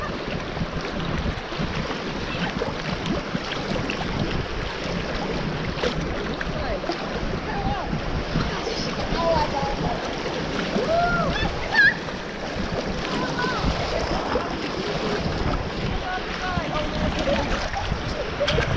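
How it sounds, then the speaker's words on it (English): River rapids on the Flathead River during a float: an unbroken wash of rushing, churning water with wind buffeting the microphone throughout. "these are the first rapids you're going to encounter."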